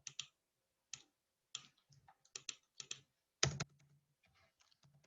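A MySQL command is typed on a computer keyboard in quiet, irregular clicking keystrokes, ending with a louder clack that sounds like the Enter key being struck.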